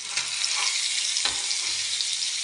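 Hot oil sizzling steadily in a kadai set on a stove before jalla fish goes in, a loud continuous bright hiss with a small pop or knock midway.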